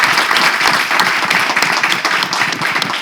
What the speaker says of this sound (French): on va applaudir, on va applaudir